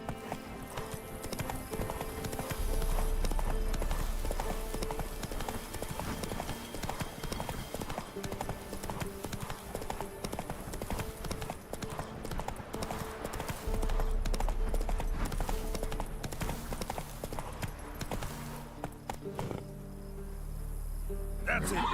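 Roach, a horse in a video game, trots with steady, rhythmic hoof clip-clops, loud and near, over a continuous cricket-like insect drone and ambient game sounds, with no talking.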